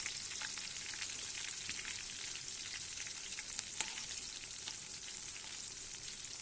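Green chilies frying in hot oil give off a steady, dense sizzle with crackling pops throughout, close by and with no talk.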